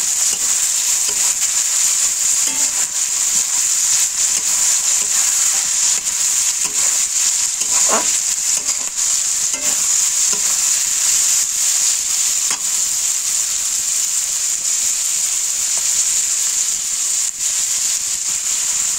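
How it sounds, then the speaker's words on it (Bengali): Chowmein frying in a pan gives a constant loud hiss and sizzle throughout, with occasional soft scrapes and taps of a spatula as it is stirred. "একবার নাড়িয়ে নিই, তারপর আবার"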